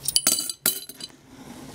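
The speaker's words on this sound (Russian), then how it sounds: "Ну, а тут у меня, кстати, монеты," Coins from an old piggy bank jar clink together in a few quick, bright bursts, with a short clatter, a pause, another burst, then fading rattles.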